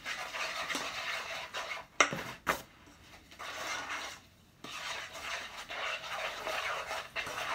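Brownie batter being mixed in a bowl, a steady gritty scraping and rubbing of the spoon against the bowl with a couple of sharp knocks and a brief pause, close and quiet, with no talk.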